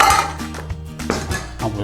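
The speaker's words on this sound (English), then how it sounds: "clear some of these pans" Metal cooking pans clank and clatter against each other in a few quick knocks, close by, with a faint ringing tone lingering between them.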